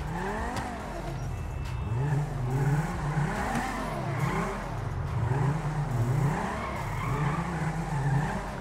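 A car drifting in the video game GTA 5, its engine revving in repeated rising and falling sweeps alongside tire skidding, loud and continuous without talk.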